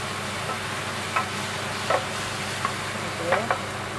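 Tomatoes and carrots frying in a pan for sweet and sour meatballs, a steady soft sizzle broken by a few brief scrapes of stirring.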